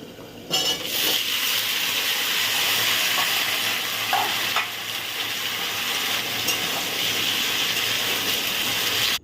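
A vegetable curry of pumpkin, potato, pointed gourd and Malabar spinach cooks in a kadai on the stove, giving a steady, close sizzling hiss with stirring scrapes and a few soft clinks, no voices.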